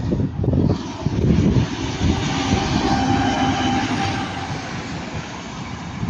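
A TransPennine Express Class 185 diesel train rumbles past loudly and close by, its engine roar and wheel noise building in the first seconds and holding steady to the end.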